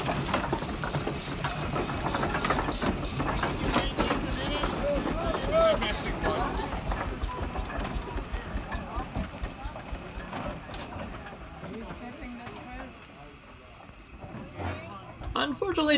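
A Massey steam traction engine chugs along towing a wagon loaded with people at a steam picnic, its steady mechanical running continuous and fairly loud throughout, with voices talking in the background.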